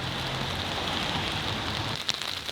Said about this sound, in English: we'll see what we can do while the rain is coming down